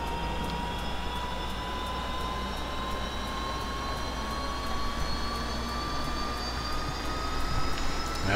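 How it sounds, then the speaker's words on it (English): UH-1 Huey helicopter turbine in the DCS World flight simulator spooling up, a steady loud whine with rising tonal pitch and a constant low rumble, no talking. "let's get our engine running. She's winding up nicely here"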